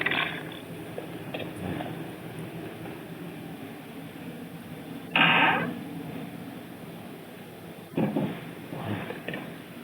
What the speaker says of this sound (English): That's the sound of me hitting a rocking chair that's actually still over there.